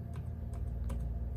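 Sparse, soft keystrokes on a computer keyboard while typing code, a few scattered clicks sitting faintly over a steady low room hum.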